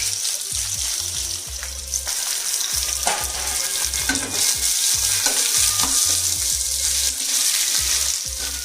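Finely chopped onions and curry leaves fry in hot oil for egg bhurji, a loud, continuous close sizzle broken by repeated rhythmic scraping stirs of the spatula, with no talking.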